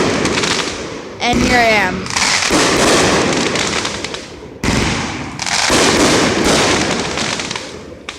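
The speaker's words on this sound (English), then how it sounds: "I just came down to the river because I saw some people lighting some fireworks." Fireworks going off at a river: loud, crackling bursts and booms repeat throughout, with one clear explosive pop near the start, and someone talks over them.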